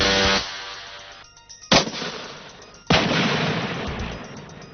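A Metal Storm electronic weapon system fires rapid rounds in a few loud, sharp bursts, each followed by a long rumbling decay.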